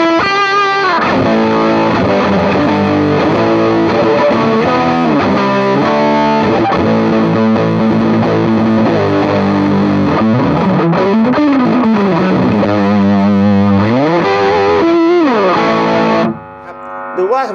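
Electric guitar through a T-Rex distortion pedal with gain at maximum and tone at noon, low and fat boost engaged; thick, sustained saturated chords and riffs, loud and continuous, cutting off abruptly near the end.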